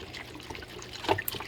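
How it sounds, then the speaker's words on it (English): Organic chicken broth poured into a pot for homemade fresh tomato soup, a soft close trickle and splash with a brief louder slosh near the end, faint and without any talking. "I'm going to actually use some organic chicken broth."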